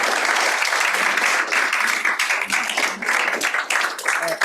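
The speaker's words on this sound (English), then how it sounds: "Huge round of applause there." Audience applause closes a conversation event about psychedelics, a sustained, full burst of many people clapping with slight swells and dips throughout.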